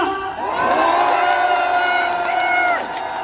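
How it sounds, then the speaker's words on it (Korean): A large crowd at a political rally in Gumi, South Korea bursts into a loud, sustained roar of cheers and shouts, holding for a few seconds before fading. "응원하는 함성 한번 부탁드립니다"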